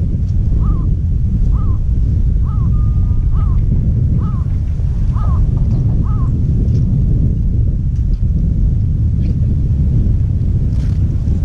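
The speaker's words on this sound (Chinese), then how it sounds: "是乌鸦吗？ 短，声音比较短。" A crow at the Niseko ski area gives about seven short, evenly spaced caws, fairly distant and partly buried under heavy, constant wind roar.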